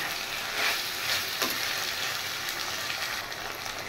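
Mutton mince and spices fry in a pan with a steady, close sizzle and crackle, and stirring scrapes break through at a few points.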